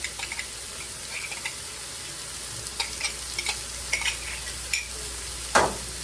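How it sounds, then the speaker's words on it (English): Sour cream and mayonnaise being stirred in a cup and dumped into a bowl of cheese and eggs, with soft scraping and clinking of a utensil in short, scattered strokes against a steady background hiss, ending in a brief louder scrape. "I'm going to take that and stir that, dump that in here with my cheese and my eggs"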